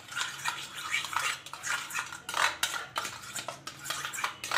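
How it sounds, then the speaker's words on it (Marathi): A spoon stirs and scrapes through a spiced yogurt mixture with red chilli powder, salt and coriander powder in a bowl, giving steady clinking and scraping strokes that repeat close by. "हे सर्व आपण मिक्स करून घेऊया"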